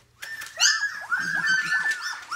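High, arching whimpers from four-week-old Lab-Aussie mix puppies repeat in a quick series of thin cries, close and fairly loud, with soft yelping between them.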